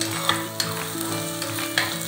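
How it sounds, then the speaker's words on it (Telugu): Blended tomato puree hits a hot pan of oil with curry leaves for spicy dhaba-style tomato rice, giving a loud, steady close sizzle broken by a few sharp stirring clicks and spatters. "ఇప్పుడు టమాటాని మనం మిక్సీ కొట్టుకున్నామండి. ఆ మిక్సీ పట్టుకునేది ఇందులో వేసుకోవాలి."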